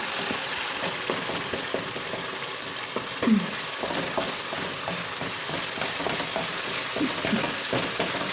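Banana halwa roasting in ghee in a pan for banana barfi, a steady close sizzle with soft scraping stir strokes throughout and no talk.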